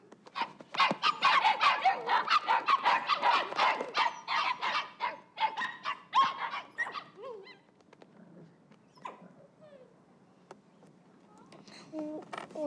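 A litter of puppies yipping and barking in a rapid, dense chorus that fades after several seconds into scattered whimpers and a few soft yips, with a person speaking faintly.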